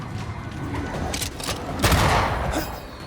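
A grenade blast in the video game Banishers: Ghosts of New Eden, heard as a loud crackling burst in the middle of ongoing combat noise, swelling and then tailing off over about a second.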